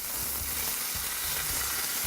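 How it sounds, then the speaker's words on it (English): Ribeye steak searing in a preheated cast iron skillet gives a loud, steady sizzle and crackle of hot fat, continuous and close with no talking. "That nice sizzle lets you know it's hot enough."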